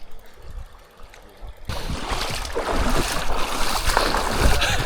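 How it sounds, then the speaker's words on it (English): Water sprays and splashes over a gravel bike's drivetrain outdoors, a steady rushing wash that starts abruptly after a quieter stretch and continues to the end. "I need to wash off the drivetrain."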